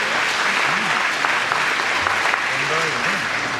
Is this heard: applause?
yes